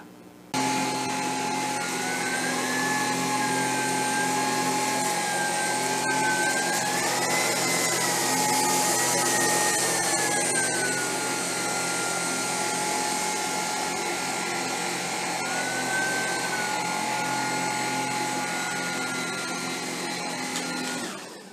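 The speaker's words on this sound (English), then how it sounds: "Then we run the vacuum as tight as we can along the wall" A Tineco Pure One S15 cordless vacuum cleaner runs continuously along a wall with a steady motor whine and shifting pitch as it moves, close by and unbroken for the whole stretch.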